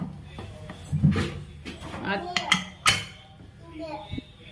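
A metal pressure cooker whistle is set onto the lid amid clinks and clatter of pots and utensils in a home kitchen while cooking horse gram curry, with someone talking throughout.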